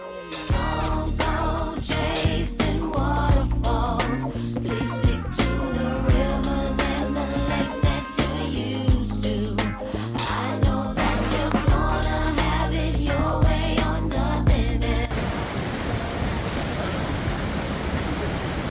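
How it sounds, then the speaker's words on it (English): Roaring waterfalls near Seattle give a steady broadband rush that stands alone for the final few seconds, after a long stretch of loud music. "these waterfalls were beautiful"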